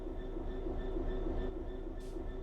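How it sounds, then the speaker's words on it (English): A train in the Train Sim World 3 simulator rumbles steadily along the track, a continuous low mechanical drone with a faint hiss and a brief brighter burst near the end, with no one talking. "In this training module, you're going to look at making the train move and then bringing it to a stop again."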